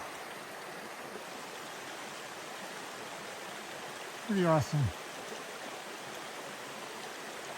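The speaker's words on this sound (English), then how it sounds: "I can still see the stream next to the path." A wilderness stream on a wet day flows steadily beside a rooty, muddy trail, a continuous close rush of water with a brief spoken remark partway through.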